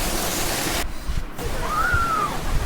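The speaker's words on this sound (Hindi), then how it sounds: "ये निकट की स्टेप बाय स्टेप गिरता हुआ पानी" Water tumbles down a stepped cascade at Pachmarhi, a dense, continuous hiss of falling water that drops out for a moment before resuming, with no talk.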